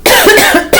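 A couple of sharp, loud coughs close to the listener, with a brief pause before the second one.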